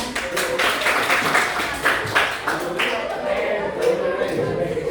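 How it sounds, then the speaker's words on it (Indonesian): Audience applause for an answer during a group game, uneven clapping in loose rhythm at moderate distance, with speech and chatter mixed in. "Oke, tepuk tangan"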